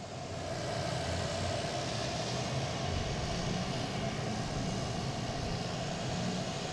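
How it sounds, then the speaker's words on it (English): Boutique Air aircraft engines starting up at an airport, a steady broadband roar and rumble that holds evenly throughout, fairly distant and moderate in level with no talk. "we have Boutique Air starting up, making all the racket"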